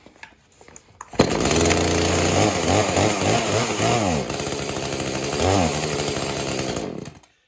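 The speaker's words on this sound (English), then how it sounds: "when I pulled the trigger, it started to bog. It's because it's not quite warmed up and ready to go." A chainsaw that has not yet warmed up fires loudly nearby, revving and bogging in uneven surges as the trigger is pulled, settling into a rough high idle before cutting off abruptly, with no talk.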